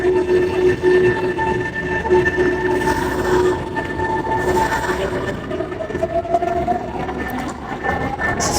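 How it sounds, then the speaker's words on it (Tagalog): An express train to the airport in Osaka, Japan rolls along with a steady rumble from inside the carriage. Faint wheel squeals and clicks run under a continuous drone. "This is the express train going to airport."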